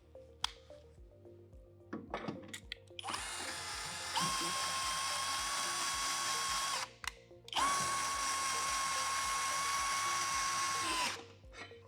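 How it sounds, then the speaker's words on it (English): A cordless drill cranks an RV stabilizer on a 2026 Bowlus Endless Highways Frontier Edition, whirring in two long sustained runs, loud and close, with clicks and mechanical clunks before and between them. "And that's what the drill looks like."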